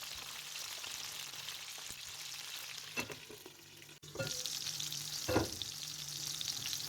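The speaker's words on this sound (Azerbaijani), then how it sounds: "Digər üzünü də çevirib qızardıram." Eggplant slices fry in a pan as they are turned, making a quiet, steady sizzle broken by a couple of clattering turns and a brief dip before the crackle resumes.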